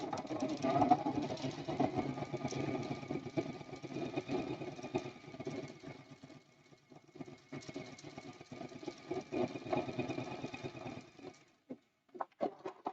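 A sewing machine runs steadily while stitching a straight line near the edge of a quilt-as-you-go Christmas quilt block, a continuous close mechanical whir for about eleven seconds before a few brief clicks and pauses.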